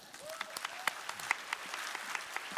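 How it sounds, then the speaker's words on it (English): An audience at a business success seminar applauding, steady scattered claps from a crowd in a hall, moderately distant and sustained. "Give yourself a big clap."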